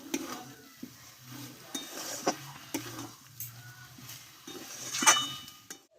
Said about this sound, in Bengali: ঘিটা দিয়ে আরো দু মিনিট মতো ভালোভাবে নাড়াচাড়া করে নেব